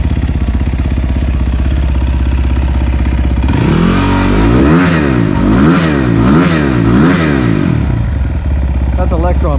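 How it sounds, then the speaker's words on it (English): A Chinese SSR dirt bike fitted with a Honda fuel-injected tank idles steadily, then revs hard in repeated rising and falling surges on a test ride, loud and close. "the bike has a Honda fuel injected tank on it and it's running."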